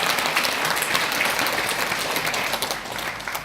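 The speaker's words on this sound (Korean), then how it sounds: "우리 모두 큰 박수로 새로운 인증자를 축하해 주시기 바랍니다" Sustained applause from a church congregation celebrating newly installed officers at an installation service, dense and steady clapping filling the room for the full stretch, tapering slightly toward the end.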